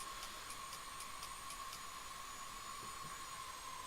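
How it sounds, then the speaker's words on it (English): A jet engine in the C-101CC trainer aircraft in the DCS flight simulator game hums faintly as a steady whine during shutdown, with a series of regular soft ticks early on over a constant noisy background. "Now the engine is going to the off position."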